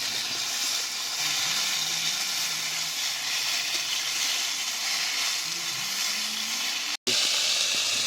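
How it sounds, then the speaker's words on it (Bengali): Ridge gourd pieces fry in a pan of oil with a dense, continuous sizzle and hiss that holds close and loud throughout, with a brief cut near the end; no speech. "ঝিঙে আমার হাফ ভাজা হয়ে গেছে।"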